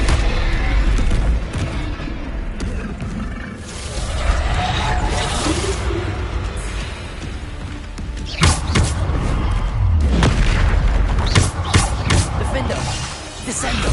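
Bombarda spell blasts go off during Hogwarts Legacy combat as loud, dense booming bursts and crunching impacts over continuous game sound, with heavier blasts clustered toward the end.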